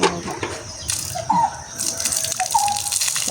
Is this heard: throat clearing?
no